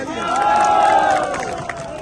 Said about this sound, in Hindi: जमाल हसन खान के लिए तालियां।